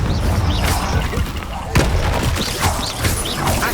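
Blasting explosions and heavy impacts from the Confringo spell in the wizarding game Hogwarts Legacy, loud booms and cracks over a busy combat background with a sharp hit near the middle and a voice over the action.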